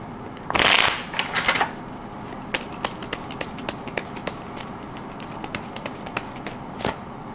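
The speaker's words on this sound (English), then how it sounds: "Let me pull two more cards." Tarot cards are riffled in a loud close burst of shuffling, followed by a string of light, sharp card snaps and taps as cards are pulled and laid down at irregular intervals.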